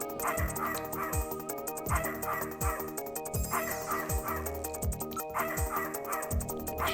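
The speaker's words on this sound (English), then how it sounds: "The dog is a purebred Doberman Pinscher." A purebred Doberman Pinscher in the Sega CD game Snatcher barks and whimpers in quick repeated bursts, set over a dense, steady game music backing.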